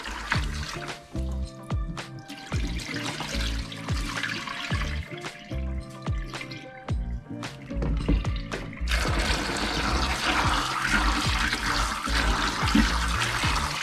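Soaked soybeans for tempeh are rinsed in a basin, with continuous sloshing and trickling water and a steady rushing wash that grows louder in the second half, no voices.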